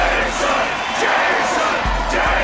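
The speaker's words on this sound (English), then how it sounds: "The crowd seems to be applauding on their own." A large video game crowd, from Toxic Grind, roars and cheers continuously, a dense wash of distant voices with occasional louder swells and low thumps.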